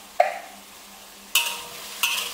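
Sugar being stirred into stir-fried organic brinjal in a pan: three distinct scraping strokes of a utensil, each a bright sharp scrape that fades, with quiet pauses between and no talking.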